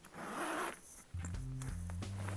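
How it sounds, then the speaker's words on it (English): Close by, the zipper of a Henri Bendel tote bag slides open with a smooth, soft rasp, followed by quiet handling noises as the bag is opened. "Nice smooth zipper."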